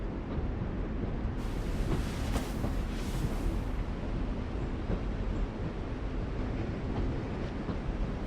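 Continuous train ambience in The Walking Dead video game, a loud steady rumble and rattle of rolling rail cars with a brighter hissing swell partway through, running for about eight seconds without speech.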